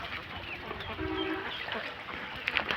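A large flock of egg-laying ducks at a duck farm in Mymensingh district quacks in a steady, overlapping chorus at moderate distance, with a few sharper calls standing out near the end.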